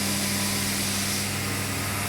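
An automatic screwdriver machine that assembles micro water pumps for coffee machines runs with a loud, steady mechanical drone and a constant low hum, unbroken across the short stretch.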